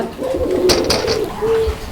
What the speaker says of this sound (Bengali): এটা হচ্ছে বিউটি হোমার কবুতরের একটা জোড়া